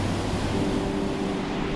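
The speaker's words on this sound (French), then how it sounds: "Il y a un tout petit peu de vent, il fait très bon" Light wind by the sea with waves washing steadily, a soft continuous rush with a low hum throughout and no voices.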